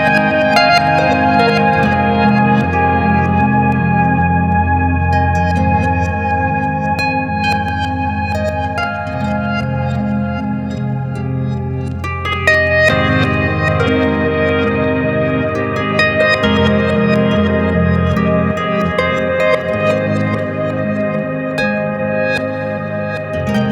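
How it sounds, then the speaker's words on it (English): A harp runs through a GFI System Solis Ventus pedal set for reverse delay and reverb, producing a lush, continuous wash of swelling, echoing tones that hold steady throughout. "I'll use Solis Ventus for some reverse delay and reverb"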